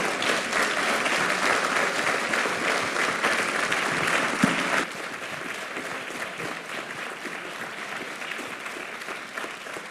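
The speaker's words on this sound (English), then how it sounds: "Let's give them a warm round of applause." Applause rings out at a Founder's Day convocation, a crowd clapping loudly for several seconds. It then drops abruptly to softer, scattered clapping that carries on.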